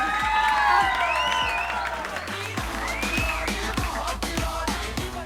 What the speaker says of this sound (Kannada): ಬನ್ನಿ ಜರ ಚಪ್ಪಾಳೆ.